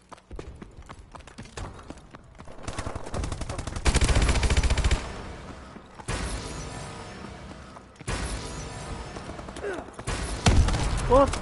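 Rapid bursts of automatic gunfire from the video game Call of Duty: Advanced Warfare, coming in several loud sustained volleys separated by brief quieter gaps, with a player's voice talking now and then.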